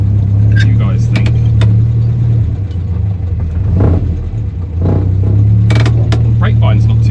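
A 1967 Morris Minor engine running hot while driving, with a loud steady drone that rises and dips as the throttle is held, heard from inside the car with occasional voices over it.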